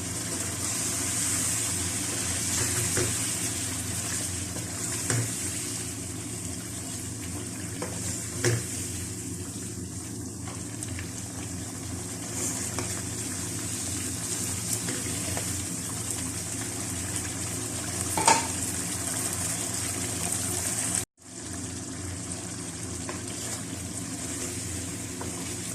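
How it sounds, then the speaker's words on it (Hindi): Chicken fries in a karahi with green masala, yogurt and lemon juice, giving a steady, close hiss with occasional small spits; the sound cuts out abruptly near the end and then resumes. "चिकन को भून लेते हैं।"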